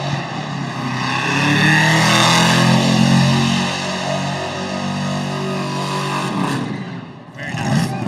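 Car engine revving hard during a burnout on the Las Vegas Strip, a sustained loud growl with harmonic drone and fluctuating pitch, under crowd noise and commentary voices.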